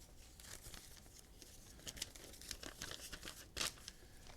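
Paper instruction sheet from an Arduino Nano tone keyboard kit being handled and unfolded, a quiet run of crinkles and rustles with a sharper crackle near the end, close to the microphone.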